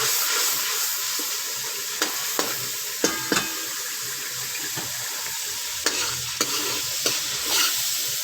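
Masala for sarson ka saag sizzles steadily in a pan, with a spoon scraping and stirring through it in several distinct knocks and scrapes; close and moderately loud, with no voices.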